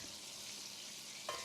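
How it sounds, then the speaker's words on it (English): Whole spices are stirred into melted butter in a pot over medium flame, giving a soft, steady sizzle with a brief clink of the spoon near the end. "Then add the whole spices into the pot and give them a stir"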